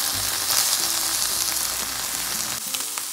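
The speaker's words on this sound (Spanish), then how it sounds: "Es momento de irle dando vuelta a los camarones. Nada más queremos que se nos sellen." Shrimp searing in a frying pan as they are turned, giving a bright steady sizzle up close with faint clinks and small shifts in the crackle, and no voices.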